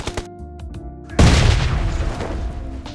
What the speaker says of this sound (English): About time you used a rocket launcher.